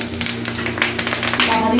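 Wrapped paturi parcels fry in hot oil, a broad steady sizzle that swells slightly toward the end, partly under nearby talk.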